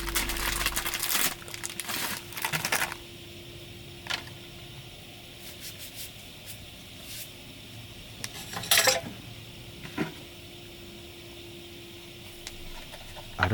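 Dishes and an aluminium pot being handled and cleaned inside a parked Hiace camper van: scattered close clinks, clatters and crinkling bursts spread over quiet stretches, with a faint steady hum underneath and no talk.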